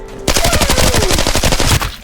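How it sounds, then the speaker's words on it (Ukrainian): Rapid automatic gunfire in Arena Breakout Infinite bursts out after a brief quiet start, a fast steady string of loud shots continuing nearly two seconds. "щось автоматично стріляє."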